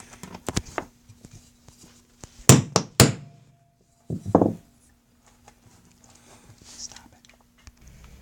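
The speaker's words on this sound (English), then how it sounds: "Alright, small ball peen hammer. I'm going to start the rivet with a center punch." A small ball peen hammer strikes a center punch set on a rivet, giving a few sharp, close metallic taps in quick pairs, separated by soft handling thumps and quiet pauses.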